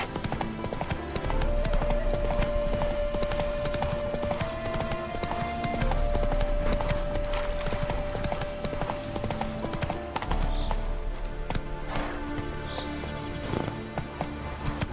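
Horse hooves clip-clop steadily at a gallop in The Witcher 3: Wild Hunt, a continuous rhythmic beat under game music with a sustained tone.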